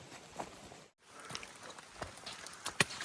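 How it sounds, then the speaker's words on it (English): Rain falls around hikers on the Appalachian Trail, a soft, steady patter with scattered drop hits. It breaks off briefly for about a second, then resumes with a few sharper close taps. "Nothing to see but a bunch of rain."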